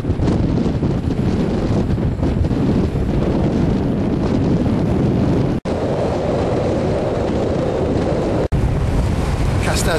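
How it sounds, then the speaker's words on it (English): Strong wind buffets the microphone on an open coast during a fishing session, with a steady broadband roar and crashing surf running continuously and loud, with two brief dropouts in the middle. "Obviously it's windy"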